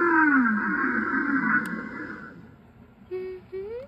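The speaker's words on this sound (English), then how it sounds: "Humpback whales make lots of sounds." Humpback whale song: long, drawn-out moaning tones sliding downward, then a pause followed by short rising whoops, clear and resonant underwater.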